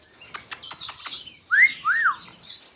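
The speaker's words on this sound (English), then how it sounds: "He is, like I said, an Australian cockatiel." An Australian cockatiel gives a few quick chirps followed by two clear, rising-and-falling whistled calls, close and fairly loud, with no talking.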